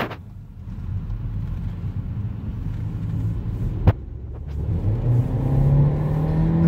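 A 2019 Skoda Karoq with a 1.5 litre engine and DSG gearbox accelerates hard, its engine rumble building steadily from inside the cabin, with a brief knock midway and a rising whir toward the end.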